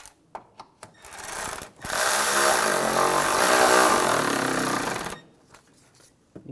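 Ratchet or socket driver snugging a nut on the windshield washer reservoir of a 2009-2013 BMW 328i xDrive: a few short clicks, then a steady loud mechanical whir of about three seconds, then a few more scattered clicks.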